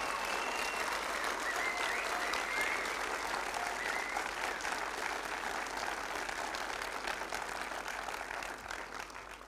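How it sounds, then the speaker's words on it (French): A ceremony audience at a French animation school's awards event gives a thunderous, steady applause, broad sustained clapping that holds strong for several seconds before easing slightly. "faire un tonnerre d'applaudissements pour eux"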